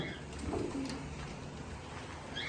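Homing pigeons coo softly in a pigeon loft, with a couple of low burbling calls heard close by against a faint background hiss.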